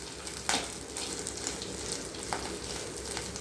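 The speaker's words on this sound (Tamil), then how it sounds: "இவ்வளோ பூண்டு, வெங்காயம் பொடியாக கட் பண்ணது எல்லாம் போட்டு நல்லா வதக்கி விடணும்." Chopped garlic and onion sautéing in a pan, giving a steady soft sizzle throughout with a couple of brief clinks from stirring, close by and no talking.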